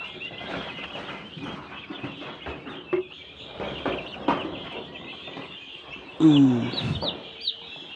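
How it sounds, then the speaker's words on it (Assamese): A batch of turkey chicks chirps continuously at close range in a shed, with high peeping calls and a louder burst near the end, while a person talks quietly in the background. "এয়া বহুতখিনি আছে টাৰ্কি পোৱালি।"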